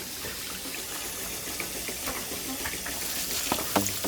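Water gushes steadily from the one-inch outlet of a solar-powered water pump, a continuous close splashing flow running throughout without talk.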